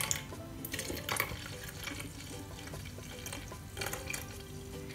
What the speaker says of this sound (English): I'm going to need a little bit more water for this.